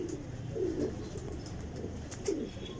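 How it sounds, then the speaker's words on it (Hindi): Kasuri pigeons on a rooftop loft in Lahore give soft, low coos, two short bursts at a distance over a murmuring outdoor background. "और ये भी भाई कसूरी कबूतर है।"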